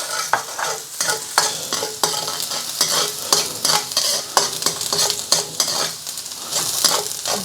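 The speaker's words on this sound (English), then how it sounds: "So I'm going to add my aromatics, my garlic and my ginger straight in. Get that sizzle on." Garlic and ginger sizzle and crackle in a hot wok during a stir fry, with loud continuous frying noise and repeated scraping and clinking of a spatula against the pan, close up and with no talking.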